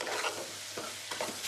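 Diced potatoes with cumin powder and coriander powder being stirred in a pan for a Kolkata-style ghugni, with a quick scraping, swishing rhythm and a light sizzle underneath.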